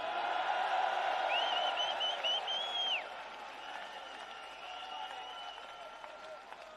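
A street protest crowd in London applauds and cheers for Northern Ireland, with a loud burst of clapping and rising whoops and whistles that gradually fade into quieter scattered applause.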